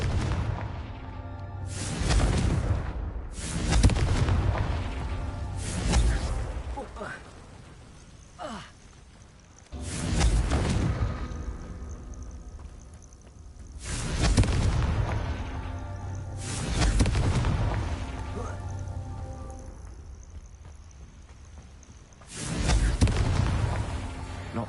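Confringo fire-blast spells in a Hogwarts wizarding video game, a series of deep booming explosions roughly every few seconds, each swelling and fading under a rumbling backdrop.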